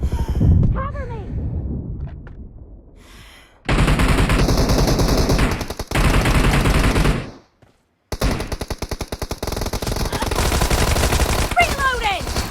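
A Thompson submachine gun fires without a suppressor in a video game, long loud close-range automatic bursts with rapid regular shots, broken by short pauses and mixed with voices shouting game callouts.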